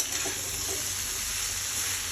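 Mixed vegetables for a five-vegetable shukto fry in a pan with a steady, close, continuous sizzle and crackle, no voices over it.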